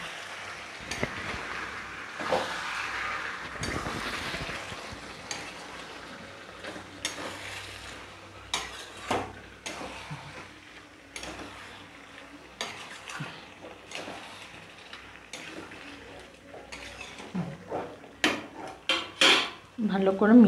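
A spoon scrapes and knocks around a pot of chicken curry with boiled potatoes being mixed in a home kitchen, irregular metallic clinks and stirring scrapes, growing louder and busier toward the end, with no talk.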